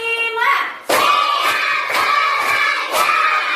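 Schoolchildren in an Indonesian classroom perform a rhythmic clapping count, sharp group claps landing in a steady beat of about five strikes, loud and close, with a brief voice at the start.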